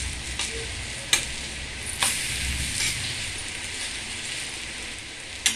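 A green gram dosa cooks in oil on a pan, giving a soft continuous sizzle with a few sharp crackles and pops scattered through it, close and steady with no talking.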